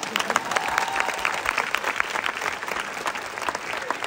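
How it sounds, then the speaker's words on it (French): A student audience applauds a performer on stage, a full, crowded round of clapping with scattered sharper claps standing out, sustained and close throughout. "On l'applaudit"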